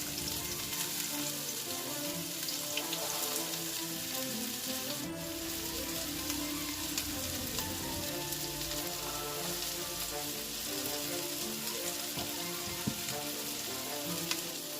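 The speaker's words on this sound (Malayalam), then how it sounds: "സവോള എടുത്തിട്ട് ഈ ചൂടായ ഓയിലിട്ടിട്ട് നന്നായിട്ട് വഴറ്റണം" Finely chopped onions sauté in hot oil for a bitter gourd curry, a steady, moderately quiet hiss and crackle lasting throughout with a faint background hum.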